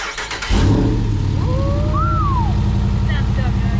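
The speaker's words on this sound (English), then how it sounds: "I'm gonna hop in and fire it up so we can hear what it sounds like." A Jeep Wrangler with a swapped 6.4 Hemi V8 cranks briefly and fires up, settling into a loud, rumbling idle close by, with a voice briefly heard in the background.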